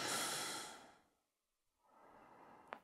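One slow, deep breath during a yoga pose in a vinyasa session: a long airy exhale, then a pause and a softer inhale rising again, close and quiet with no talking.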